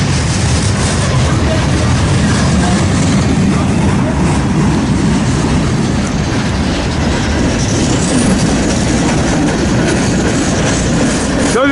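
A freight train with hopper cars rolls past nearby on the Harrisburg line, loud and continuous, with steady wheel rumble and clacking throughout and faint voices underneath.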